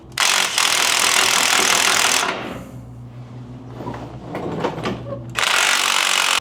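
Tools work loose a motor mount on a Ford Bronco being prepared for a big block 460 swap: bursts of loud mechanical ratcheting and metallic clatter separated by a quieter pause, close to the microphone, with no talking.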